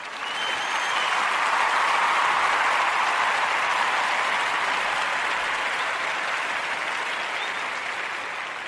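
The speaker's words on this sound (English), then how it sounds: "Let's give them a round of applause." A school crowd gives students a full round of applause, a dense, even roar of clapping that swells quickly and holds steady for about eight seconds before easing slightly.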